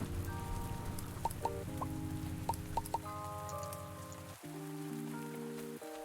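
Steady rain patters on a surface around a farm barn in the game Pumpkin Days, a dense continuous hiss under a melodic music track with plucked notes.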